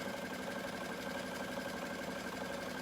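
A home sewing machine runs steadily while stitching a zigzag hem, giving a continuous whirring, even drone at moderate volume with no pauses or talk.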